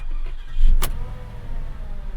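A Porsche engine cranks and fires with a short, sharp burst, then settles into a steady low idle rumble heard from inside the car.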